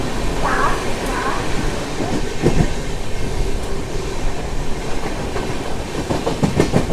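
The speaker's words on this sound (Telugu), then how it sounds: "మన ట్రైన్ వచ్చేసి ప్లాట్ఫామ్ 3 నుంచి అయితే డిపార్ట్ అయిపోయింది" Sabari SF Express running on rails, wheels clicking over track joints in a steady clickety-clack under a continuous rolling rumble, heard close from on board, with some voices in the background.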